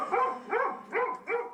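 A nervous pet dog named Bud, anxious around people, barks four times in a steady rhythm, each bark close and fairly loud with short pauses between, and no talking.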